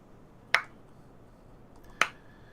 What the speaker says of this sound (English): No, I cracked my knuckle.